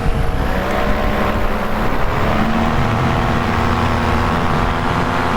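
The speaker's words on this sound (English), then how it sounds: "with the engine trying to push this prop" Loud, steady drone of a paramotor's small engine driving a propeller, constant whirring buzz close by with no speech.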